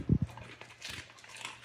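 A few soft, close crunches of dry kibble being chewed, followed by quieter chewing and faint rustling.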